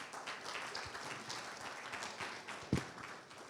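An audience applauds at an engineering manifesto event, a soft, dense wash of many hands clapping at a distance, with one louder close knock near the end.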